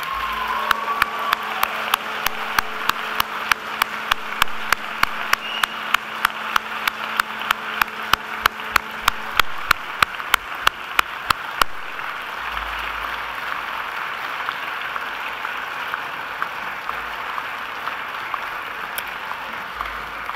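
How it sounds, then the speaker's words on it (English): Graduates at a Macquarie University ceremony applaud their families and friends in a large hall: a steady crowd clap runs under sharp, evenly spaced clicks that stop partway, leaving the applause to continue alone. "please give them a huge round of applause to thank them"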